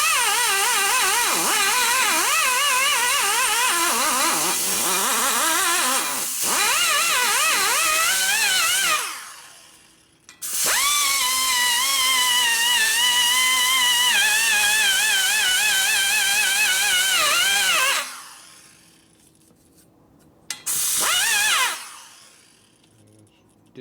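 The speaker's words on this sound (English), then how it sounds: "I'm going to use the coarse bit to rough it in" A high-pitched rotary grinder with a coarse bit porting a 1974 74ci Harley shovelhead cylinder head, whining in long bursts with wavering pitch as it bites the metal, stopping briefly between passes.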